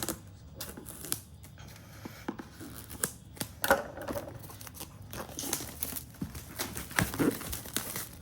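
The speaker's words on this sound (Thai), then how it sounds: "เดี๋ยวขีดซีนไปก่อนนะครับ" Plastic seal on a Keychron K8 keyboard box being slit and peeled off, heard up close as quiet crinkling, scratching and tearing in short irregular bursts, with no talking.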